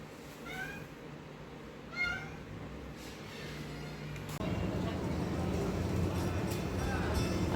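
A cat gives several clear, separate meows, each distinct against a quiet room at a veterinary clinic, before louder background noise rises and a last faint meow comes near the end.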